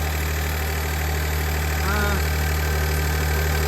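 A Maserati Levante V6 engine idles steadily with the heater matrix coolant pipe just replaced. It is a loud, constant, even hum that fills the clip, close by, with no talking.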